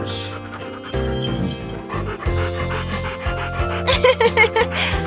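A small dog pants and whimpers in quick bursts over steady background music.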